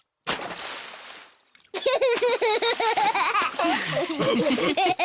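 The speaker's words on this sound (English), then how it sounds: "But you don't need to splash quite so much." A cartoon child splashing in a swimming pool, a burst of splashing water followed by a child's excited babbling and giggling over continued splashes, loud and close.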